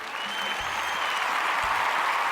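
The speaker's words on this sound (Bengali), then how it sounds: "এটা জোরে হাততালি চাইব ওর জন্য।" Studio audience applause for a contestant on a Bengali singing competition show, broad continuous clapping held at an even level throughout, moderately loud and unbroken.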